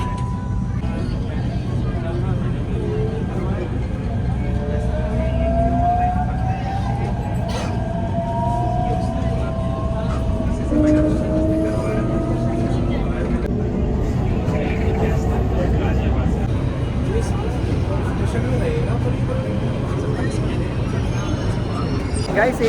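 A Delhi Metro train pulls into Rajiv Chowk station, a steady rumble with rising and falling electric whine. It runs continuously under a busy platform crowd, and people talk nearby throughout.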